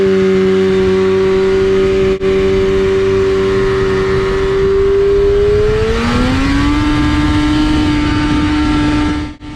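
Yamaha SRX snowmobile engine held at a high steady rev, then a pitch shift as the clutch engages and grabs the drive belt, a loud, close and continuous drone with no talk.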